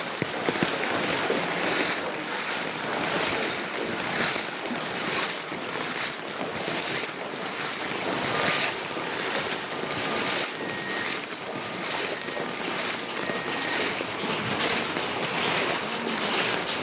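Someone wading through deep rainwater on a rainy July morning in Kolkata, with continuous rushing, splashing water and rhythmic surges like steps, loud and close under steady wind buffeting the microphone, no talking.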